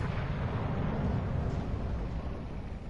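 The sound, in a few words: battleship guns firing in World of Warships video game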